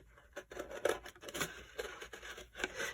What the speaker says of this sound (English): Notice that when I'm cutting, I'm turning the cardboard rather than my scissors.